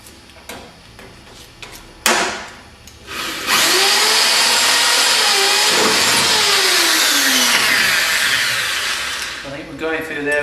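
A 3.5mm drill bores through a car wing and its beading, opening with a few short taps and knocks, then a loud, steady whine of the drill running for several seconds before winding down.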